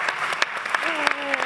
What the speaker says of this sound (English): can our crowd give us our space women, a big round of applause?